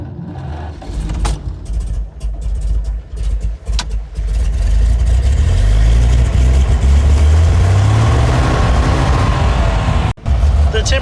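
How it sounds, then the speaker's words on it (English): A 1929 Buick's engine cranks and fires, then settles into a loud, steady running idle with a low rumble that rises slightly with light throttle, close by, with a brief cutout near the end. "Okay, let's start the car."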